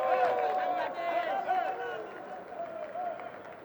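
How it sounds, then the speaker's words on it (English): A stadium crowd at a Bangladesh vs Ireland cricket Test match cheers and applauds a boundary, a steady wash of distant clapping and roar that slowly fades, with a commentator's voice over it. "Excellent work, much to the delight of the crowd here."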